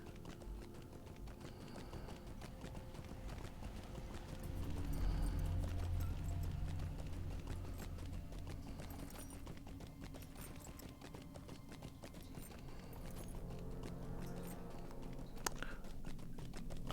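Hooves of a goat mount running in Lord of the Rings Online, a steady patter of footfalls carrying on without a break under game ambience, a little louder in the middle stretch.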